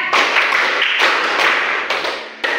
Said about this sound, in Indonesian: Mulai tepuk 1, tepuk 2, tepuk 3, tepuk 4,